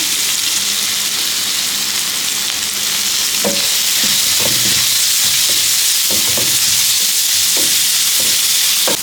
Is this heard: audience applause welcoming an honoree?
no